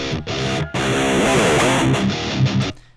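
Distorted electric guitar through a cabinet impulse with its mix below 100%, playing a sustained, buzzy chord with a hollow, phasey tone, loud and alone, cutting briefly between strums.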